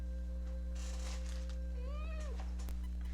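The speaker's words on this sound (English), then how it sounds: "My kitty is trying to join." A pet cat meows once, near and clear, with a rising and falling cry over a steady electrical hum and faint rustling in a room.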